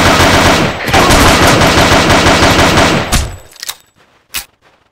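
Rapid automatic gunfire in a video game rattles loudly for about three seconds, then cuts off into a few scattered single shots and silence.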